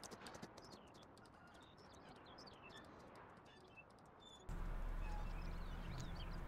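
Horse hooves in Farming Simulator 19 on a multiplayer ranch map: faint, steady clip-clop steps under chirping birds and outdoor ambience, which gets louder and denser partway through.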